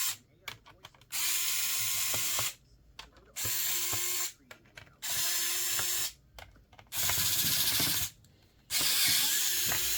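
A powered screwdriver whirs in five short bursts of about a second or more each, with brief pauses between, as screws are backed out of a Dell laptop's back cover, close up and clear.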